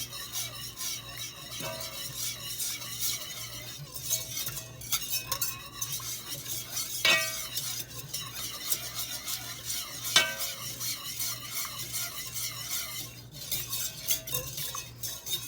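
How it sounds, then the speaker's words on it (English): Milk being stirred into a roux in a pan for a gravy-style sauce, with a steady soft scraping and light sizzle, occasional utensil clinks against the pan, no talking. "I'm going to slowly start adding some milk to it. It's kind of like how you would make a gravy"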